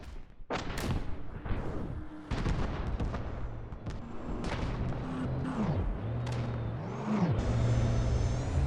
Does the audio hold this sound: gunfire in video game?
yes